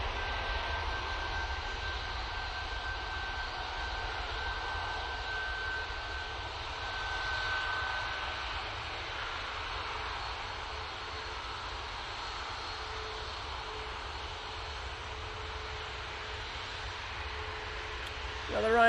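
Ryanair airliner approaching with its jet engines, a steady broadband roar holding at moderate level throughout, slightly swelling near the middle and rising sharply at the very end.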